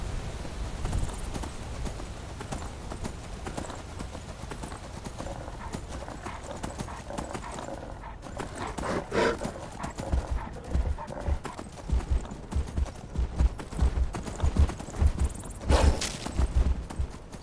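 Horse hooves clip-clop steadily in the Skyrim video game, a continuous stream of soft footfalls at close range with the occasional whinny, growing louder and sharper toward the end.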